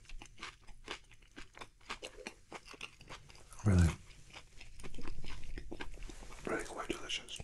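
Crisp iceberg lettuce crunches under a bite into a vegetarian KFC burger with fresh tomato, heard close up with one loud crunch and softer chewing, while a soft whispering voice is also present.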